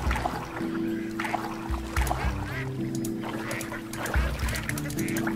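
A duckling in the kayaking video game Teddy Floppy Ear quacks in several short, repeated calls over steady game music, fairly close and moderately loud.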